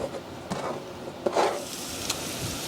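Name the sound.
garlic, onion and baby bella mushrooms cooking in a pan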